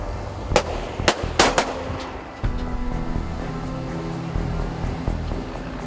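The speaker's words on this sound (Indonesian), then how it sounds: "Persiapan tembakan 1 kali." Several sharp, loud warning gunshots crack out in quick succession from a patrol boat, fired at the water over a steady engine rumble and open-sea background, during the capture of a foreign fishing vessel off Natuna, Indonesia.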